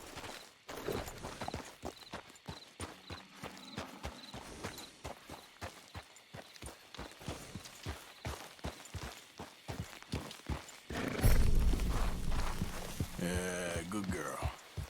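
Horse hooves clip-clop at a steady walking rhythm in the game Red Dead Redemption 2, and then a louder burst that sounds like a whinny follows near the end.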